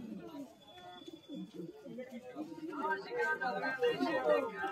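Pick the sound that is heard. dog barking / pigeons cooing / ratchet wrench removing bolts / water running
pigeons cooing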